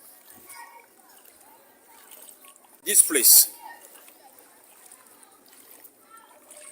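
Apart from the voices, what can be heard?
floodwater splashing over the coast at Kejikope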